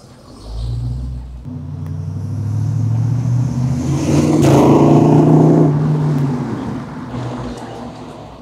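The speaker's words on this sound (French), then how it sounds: "T'entends bien le son du V8?" The V8 of a restomod 1962 Corvette C1 with a new exhaust line rumbles close by at a low idle. It swells into a deeper, louder rev, then eases back to a steady burble.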